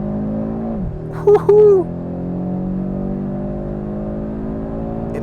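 An Audi RS3's 2.5-liter five-cylinder engine with its RS exhaust holds a steady, close, throaty drone after a brief drop in pitch, with a short excited shout over it partway through.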